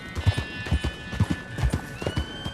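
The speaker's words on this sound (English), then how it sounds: "I completely forgot Rachel, which was obviously the horse that we started the epilogue off with" Horse hooves clip-clop at a steady walking rhythm in Red Dead Redemption 2, a run of close, distinct footfalls over faint ambient sound.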